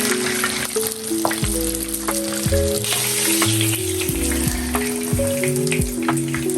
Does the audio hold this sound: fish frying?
yes